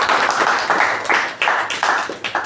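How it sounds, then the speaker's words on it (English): Audience members at a speaking meeting clap in a modest, uneven round of applause, close and steady with distinct hand claps standing out. "So let's give her a thunderous round of applause."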